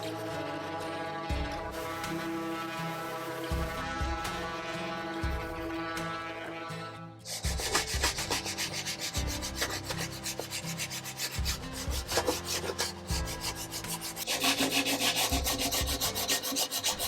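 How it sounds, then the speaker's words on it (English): Sanding a scratched, dirty wooden furniture piece, a steady rubbing and rasping that continues throughout and grows louder and denser halfway through, mixed with music. "there was a lot of sanding"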